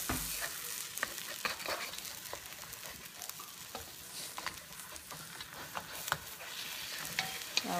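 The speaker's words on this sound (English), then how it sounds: "I'm going to cook this until the bottom part turn golden brown and crispy" Bitter gourd and egg frying in a pan over a village cooking fire, a steady close sizzle with scattered crackles and pops running alone throughout, no voices.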